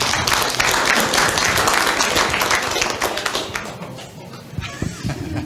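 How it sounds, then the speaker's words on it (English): Audience applause at a tourism forum on King Island: a dense burst of many hands clapping, loud and sustained for several seconds before thinning and tapering off near the end. "Round of applause."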